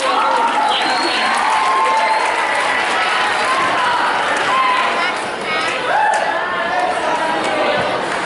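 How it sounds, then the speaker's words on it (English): Applause and crowd noise in a school gym at an honor roll and Longhorn Pride assembly for 7th and 8th grade, steady clapping mixed with student chatter and cheering and occasional voices. "One last round of applause, 7th or 8th grade honor roll for Longhorn Pride."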